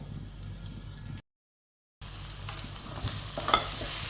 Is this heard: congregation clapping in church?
no